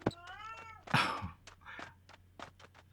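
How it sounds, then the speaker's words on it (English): Several cats meowing in quick succession, close and fairly loud, with one longer drawn-out yowl among shorter calls, against a quiet background hum. "such noisy cats."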